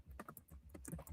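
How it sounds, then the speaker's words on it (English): Quiet clicks of typing on a computer keyboard, irregular keystrokes tapping at a steady pace, close and soft, with no talking. "I'll just type it in the chat."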